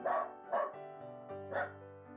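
A dog barks three times in separate bursts, fairly close and loud, with a steady tonal hum continuing underneath.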